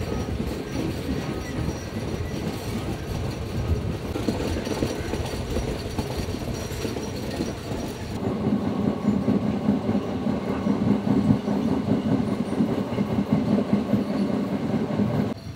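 A passenger train in southern Sri Lanka rumbles along the rails, heard up close from an open doorway with steady clattering wheels and occasional squeals, growing louder and heavier partway through.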